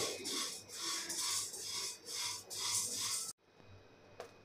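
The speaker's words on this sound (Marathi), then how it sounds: "आता हे गहू सुद्धा आपल्याला भाजून घ्यायचे आहे।" Wheat grains roasted in a pan are stirred with a rhythmic rasping scrape, close and steady in repeated strokes for a few seconds, then it stops and one faint tap follows.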